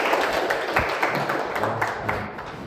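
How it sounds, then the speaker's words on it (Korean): An audience of middle school students at a lecture applauds the professor, with a moderate, steady patter of many hands clapping together and no voices. "다들 큰 박수 부탁드리겠습니다."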